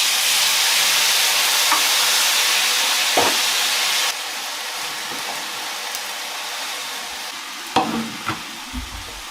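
Food sizzling in an overheated pan while cooking Japanese dishes, a loud continuous frying hiss that drops somewhat in level partway through, with occasional clinks and stirring knocks.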